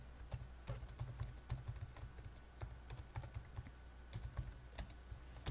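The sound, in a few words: typing on a computer keyboard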